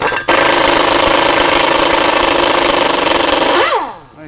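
Impact gun loosening the 15mm rotor bolts on a Dodge Ram 3500: a loud, continuous, close hammering buzz for nearly four seconds, then winding down to a stop.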